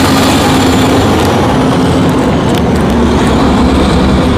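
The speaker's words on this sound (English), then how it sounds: "And there's big trucks passing by." Big trucks pass along a street outside a coffee shop in Johnstown, New York, giving a loud, continuous engine rumble and roar close by, with faint hissing bursts and no talk.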